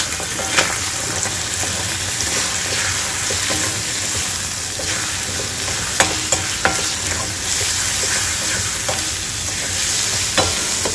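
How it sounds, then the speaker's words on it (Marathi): Beaten egg for anda bhurji frying on a high flame, a continuous loud sizzle with repeated spatula scrapes and taps against the pan, close up and with no talking. "हे मी फेटलेलं अंड्याचं सारण घालून घेते. गॅस मोठा करायचा आहे. आता याला छान हलवून घ्यायचं आहे."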